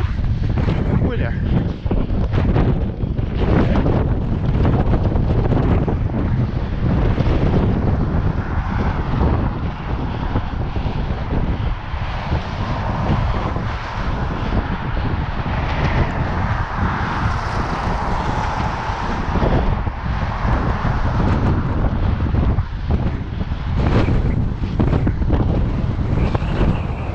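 A strong headwind roars against the microphone in heavy, continuous buffeting gusts, loud and close throughout the long stretch.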